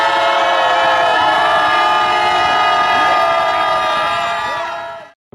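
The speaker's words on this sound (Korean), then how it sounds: "함성 시작" A rally crowd roars and cheers in a dense, loud, sustained wall of shouting, calling for the dissolution of the United Future Party at a candlelight protest rally. Piercing horn-like tones run through it before it cuts off sharply near the end.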